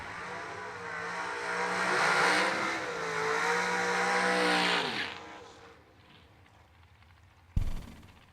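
Drag race cars at a Twin Fifties meet roar down the track, the engine note building loud and high, then sweeping down and fading into the distance, followed by a sharp bang near the end.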